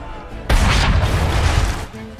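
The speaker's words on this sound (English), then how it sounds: "Don't worry, there's probably a cannon nearby you can use." A single heavy cannon blast from Assassin's Creed 3 booms in abruptly and rolls on as a loud, rumbling roar that fades after about a second and a half.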